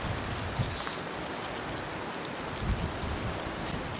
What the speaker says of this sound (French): il y a du vent, mais on est super bien